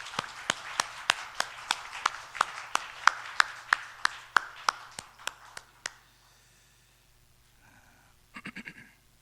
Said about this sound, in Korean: 우리 하나님께 감사와 영광의 박수 한번 하겠습니다